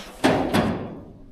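Cab door of a combine harvester shutting, two quick solid thunks about a third of a second apart followed by a short fading ring, close and fairly loud.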